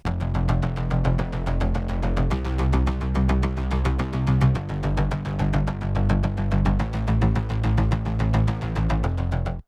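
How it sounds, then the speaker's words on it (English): A bouncy, 80s-style synth bass line pulses in quick repeated notes, shifting pitch every couple of seconds, loud and upfront with no talking. "I've added this like jumpy bass"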